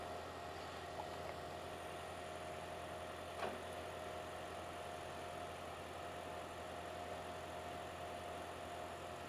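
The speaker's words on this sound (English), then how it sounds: "Okay, so the engine is running, as you can hear." Toyota Prius engine idling steadily, a constant mid-pitched hum with faint vibration and one brief click partway through, no talking.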